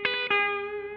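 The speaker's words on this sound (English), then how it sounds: "this is a slapback." Electric guitar through a Walrus Audio slapback delay pedal, two quick picked attacks ringing into a single sustained chord, close and clear.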